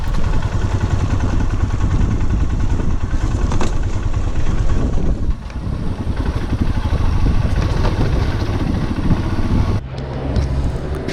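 A motorcycle rides off-road over rocks and boulders on a mountain track, its engine loud and close with a steady rumbling drone, rattling clatter over rough ground and gusty wind noise, easing briefly midway.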